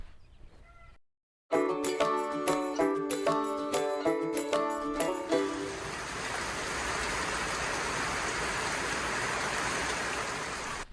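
Steady, dense rain pouring down close by on raised garden beds in Oklahoma, preceded by a short burst of music.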